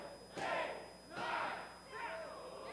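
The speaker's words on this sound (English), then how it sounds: "Crowd counting along" Wrestling arena crowd chanting a count in unison during a women's match, three rising swells of massed voices a second or so apart, loud and echoing with a dull thud at the start.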